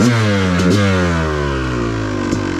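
An off-road motorcycle on mountain OHV trails runs at full throttle while leaned into a turn, its engine a loud, close, sustained roar. The pitch slides slowly down, broken by a few brief clattering bumps.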